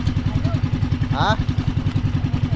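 Fishing boat engine running at a steady idle, a rhythmic low pulsing throb close by, with a brief voice cutting in near the middle.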